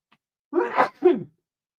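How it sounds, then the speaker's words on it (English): A single sneeze, a sharp intake followed by a burst and a short trailing exhale, close and fairly loud against silence. "I had to sneeze."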